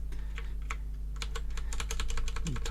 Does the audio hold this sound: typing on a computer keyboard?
yes